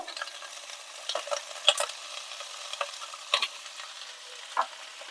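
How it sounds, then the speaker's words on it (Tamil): Brinjal and drumstick sautéing in ghee for Tanjore palace-style sambar, with a soft steady sizzle under repeated scraping stirs of a spoon in the pan, close and fairly quiet, with no voices. "கூடவே முருங்கைக்காய் சேர்த்து நல்லா இந்த நெய்யிலே வதக்கி விடுங்க"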